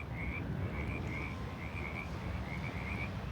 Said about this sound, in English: there are frogs making noises over there in that lagoon